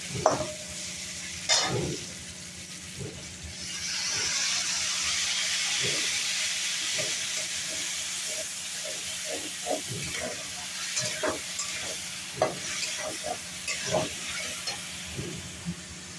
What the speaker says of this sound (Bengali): কুমড়োটা ভেজে নিচ্ছে